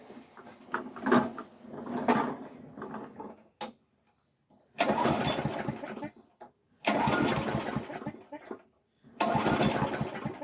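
A small engine with a freshly swapped carburetor and low on gas cranks repeatedly without catching: four loud, close bursts of churning cranking, each a second or two long, separated by brief silences, with no talk.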